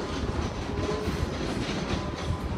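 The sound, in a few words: ScotRail train passing at Edinburgh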